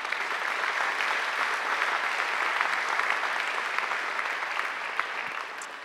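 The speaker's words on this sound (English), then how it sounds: "I think Angela deserves another great round of applause." A large audience at a university graduation ceremony claps steadily and warmly for about six seconds, a dense even applause filling the hall that tapers only slightly at the end, with no voices over it.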